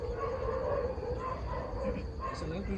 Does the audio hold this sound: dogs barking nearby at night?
yes